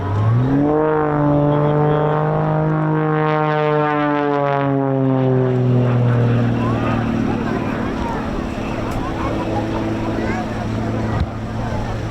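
Propeller aircraft making a knife-edge display pass at the RAF Cosford Air Show, a loud engine roar whose pitch sweeps and falls as it passes, fading into a broad wash of noise while a commentator talks over it.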